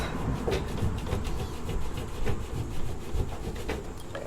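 Old caulking being rubbed off an Aliner camper vent, a continuous close scrubbing and scraping with a rough back-and-forth rhythm, alone.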